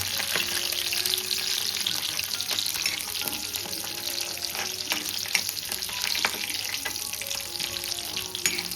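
Spice tempering for a dry fish dish sizzles steadily in hot oil with frequent crackles and small spitting pops, a close, busy frying sound running throughout with no speech.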